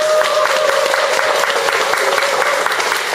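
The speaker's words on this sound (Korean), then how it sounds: "우리 박수 한번 보내드려야 될 것 같아요." Steady applause from a seated audience at a televised literary interview, broad and continuous throughout, with a faint tone lingering underneath early on.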